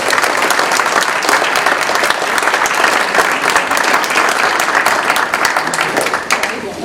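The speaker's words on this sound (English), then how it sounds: "Could we applaud all the facilities?" An audience at an Arsenal Park community meeting breaks into loud, sustained applause, with dense clapping that holds steady throughout and eases slightly at the end.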